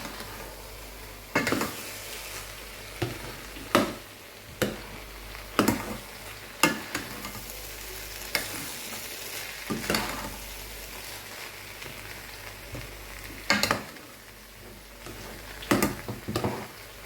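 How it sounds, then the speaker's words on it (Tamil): Tamarind rice (puliyotharai) being mixed in a pan, a spoon scraping and knocking against the metal in irregular sharp strikes over a faint steady background hiss, with no talk. "இப்போ வந்து நாங்கள் நல்லா மிக்ஸ் பண்ணி விடுவோம்."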